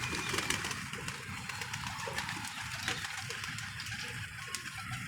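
Pigeons coo softly in low repeated murmurs against a steady background hiss, with occasional faint rustles and distant sounds, no clear talking.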